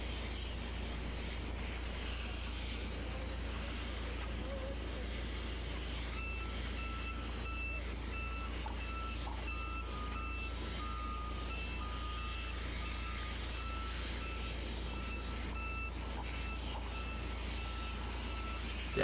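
Steady, regularly spaced electronic reversing beeps from a backing internet-service truck begin partway through and repeat evenly over a low, constant engine rumble, with no voices.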